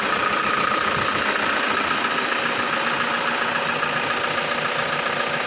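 A diesel car engine running with its crankcase vapour vented to open air, a steady dense rumbling clatter held at an even, loud level from start to end.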